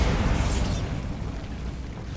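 A Bombarda blasting spell goes off in Hogwarts Legacy, a loud full-band burst at the start that rumbles low and fades into a sustained noisy tail.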